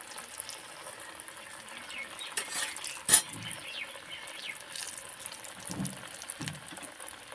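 Crab vadas sizzle and crackle in hot oil in a pan as they are turned over, a steady fine frying hiss with one sharp clatter of the flip midway and a few soft low bumps afterward.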